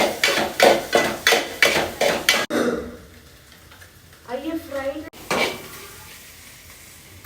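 Egg and cabbage being stir-fried in a pan for chicken fried rice: a rapid series of spatula clanks and scrapes, then steady sizzling, with a voice talking over part of it.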